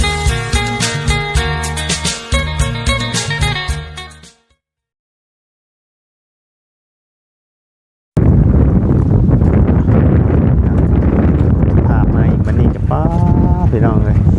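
Wind gusts across an open rural hillside of mountains and forest in Thailand, roaring and buffeting the microphone as a loud, continuous rush. It begins after a few seconds of music and a silent gap.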